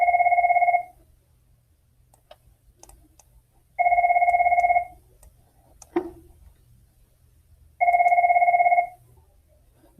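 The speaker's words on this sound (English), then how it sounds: "One day, my phone will stop ringing" A phone rings in three loud, evenly spaced electronic bursts about four seconds apart, each lasting roughly a second, with quiet gaps and a single sharp knock between the second and third rings.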